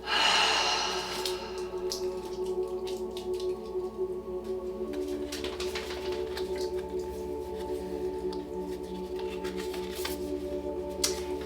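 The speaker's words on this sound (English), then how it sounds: "One more shuffle." Tarot cards being shuffled close by, a brisk riffling burst at the start followed by softer repeated shuffles under steady background music.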